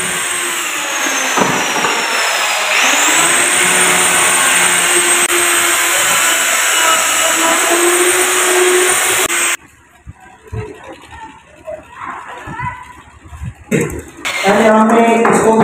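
Electric grinder working on a wooden charpai bed frame, a loud steady whine with a high tone running for about nine seconds, then dropping away into scattered scraping and handling noises before the grinding resumes briefly near the end.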